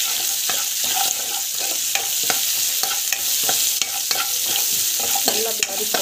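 Onions, mustard seeds, cumin, curry leaves and asafoetida sauté in hot oil with rock salt for a mango dal tadka, a loud close sizzle with frequent rhythmic scraping stirs and no voices.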